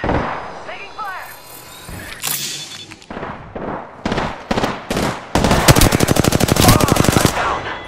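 Video game battle with machine gun fire: scattered shots and thuds give way to a loud, rapid, continuous automatic burst that rattles on for a couple of seconds, close and dominant.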